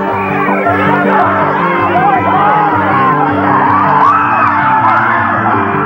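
A dense crowd of fans screams and yells continuously at a Michael Jackson appearance, a loud, unbroken roar of high shrieks and whoops over a rumbling background.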